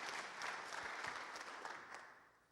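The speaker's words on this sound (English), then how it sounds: "Round of applause first." Audience applause follows a sports nutrition talk for rugby players, a steady dense patter of many hands clapping in a hall that holds for a couple of seconds before fading slightly.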